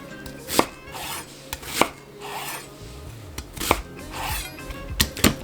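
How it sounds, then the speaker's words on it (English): Knife chopping half a white onion into large chunks on a cutting board for soup stock, with sharp, irregular thuds, about eight distinct close chops and quieter scraping between them, no talking. "We're going to cut half of it into large chunks just for the stock."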